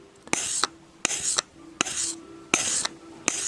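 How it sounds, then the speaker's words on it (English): A sanding block rubs along the edge of a metal tool blade during sharpening, giving five rhythmic rasping strokes, close and fairly quiet, with short pauses between them. "keeping that sanding block nice and flat with the tool."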